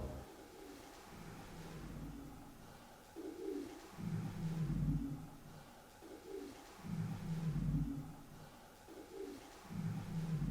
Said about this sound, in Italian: il piccione di là forse.